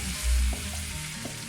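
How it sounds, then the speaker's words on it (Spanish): Chopped onion and garlic frying in a pan for a Chilean sofrito, a steady close sizzle with light stirring. "Y aquí estamos terminando ya la etapa del sofrito."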